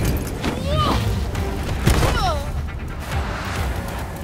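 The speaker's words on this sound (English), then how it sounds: "Enjoying the fireworks!" Fireworks burst in the video game Gotham Knights, a few booming thumps and whistling crackles amid a burning building and busy game noise, fairly loud throughout.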